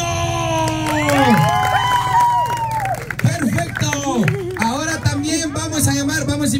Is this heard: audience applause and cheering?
yes